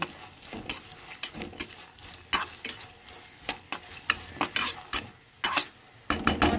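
Brinjals cook in oil in a pan while a spoon stirs and scrapes them, giving irregular clinks and scraping knocks over a soft, steady sizzle, close by and with no talking.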